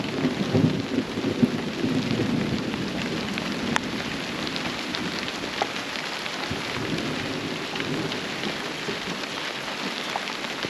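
Steady heavy rain pours over a low, rumbling wash of thunder during an outdoor thunderstorm at an off-grid homestead, continuous and enveloping with no voices.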